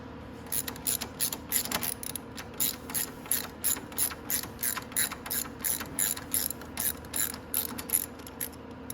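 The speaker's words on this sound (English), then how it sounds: "Just wanna put a 12 mil bolt or a wrench on the other side." A ratchet wrench clicks in steady repeated bursts while loosening a nut on a 250cc X22R Max motorcycle engine during a valve adjustment, the sharp ratcheting close and clear over a quiet background.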